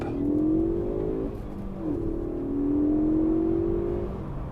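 Car engine revving hard as the driver pulls away from a standstill, a loud sustained climb in pitch that drops briefly at a gear change near the two-second mark and then climbs again, with no talking.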